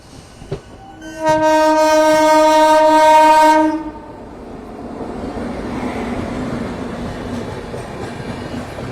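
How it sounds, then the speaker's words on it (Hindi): A train arrives at Ghaziabad Junction railway station. A loud, close horn blast sounds for about three seconds, then a steady rolling rumble of railcars continues, with no voices. "और सामने से कोई तो ट्रेन आ रही है।"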